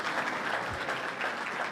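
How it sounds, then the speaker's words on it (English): An audience claps in a steady, moderate round of applause at a grand-finals event, even and continuous without cheering. "Let's give a round of applause to the pros too"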